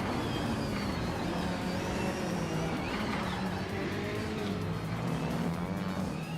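Engines of 2020 Chevrolet Corvette C8R GTE-class race cars in a racing video game roar steadily and loudly throughout, with a continuous drone and shifting engine pitch as the field runs close together.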